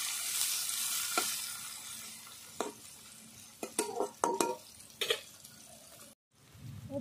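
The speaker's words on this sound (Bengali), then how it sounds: "উচ্ছে আমি লাল করে ভেজে তুলে নেব। অল্প একটু লবণ দিয়ে ভেজে নেব।" Sliced bitter gourd fries in oil with a little salt and a pinch of turmeric. A soft, steady sizzle sits under sharp stirring scrapes and clinks of a spatula against the pan, loudest toward the end.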